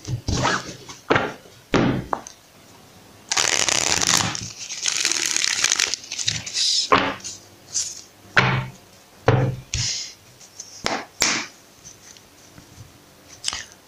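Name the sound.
tarot cards being shuffled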